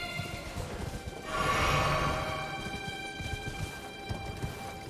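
A horse gallops during a mounted fight in the video game Elden Ring, quick rhythmic hoofbeats under a swelling rushing burst and a sustained tonal hum, moderately loud with no talking.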